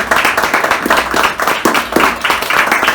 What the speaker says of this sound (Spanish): Le damos un aplauso al Señor por la escritura.